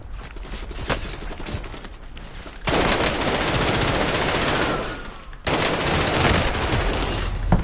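Gunfire in the video game Warzone: rapid automatic bursts and scattered shots, then two long, loud sustained volleys of heavy fire separated by a brief drop.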